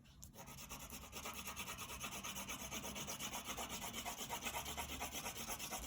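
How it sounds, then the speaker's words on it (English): A black crayon rubs steadily back and forth on paper, a close, continuous scratchy rasp with a quick regular stroke rhythm, moderately faint and alone. "I'm not pressing my black crayon really well."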